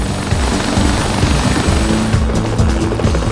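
A London police helicopter flies nearby, a loud, steady rotor thump with a continuous engine whine that stays constant throughout, no voices.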